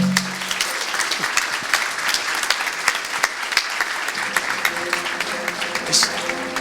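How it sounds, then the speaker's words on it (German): Audience applause after a science-slam lecture on tribology, dense steady clapping from a sizable indoor crowd filling the whole stretch, with a brief voice near the start. "An der Stelle würde ich sagen, auch nochmal einen extra Applaus."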